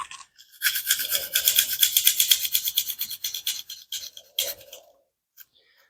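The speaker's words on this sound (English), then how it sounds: "let's take our brush and we're just going to work our way across, and then we'll work our way inside" A small cleaning brush scrubs rapidly over a Ruger LC9 pistol, a close, crisp run of rhythmic bristle strokes for a few seconds before it trails off into quiet.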